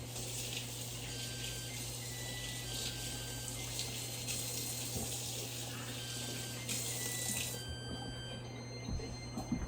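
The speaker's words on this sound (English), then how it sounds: "I'm washing my hands one more time now that the oven's preheated" A kitchen tap runs steadily into a sink during handwashing, a continuous close hiss of water with a constant low hum beneath it and faint splashing changes throughout.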